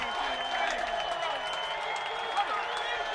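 Football crowd at a Westlake high school game, a dense sustained roar of cheering and applause heard from within the stands, with a commentator's voice over it.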